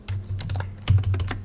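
Quick keystrokes clatter on a computer keyboard while a command is entered in a Linux Mint terminal, with a steady low hum underneath.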